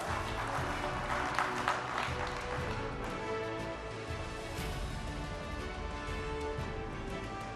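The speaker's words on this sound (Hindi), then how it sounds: "जोरदार तालियां हो जाए जरा, आइए।" An audience at a televised political conclave applauds to welcome Madhya Pradesh's chief minister, a broad, fairly faint wash of clapping heard at a distance under a hall's hum, with a few louder claps near the start.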